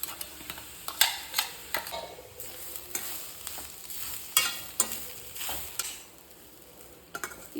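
Spice powder stirred into a frying jackfruit palya, a Karavali-style raw jackfruit dish: soft sizzling with repeated scraping strokes of a spoon in the pan, close and fairly quiet, no voices.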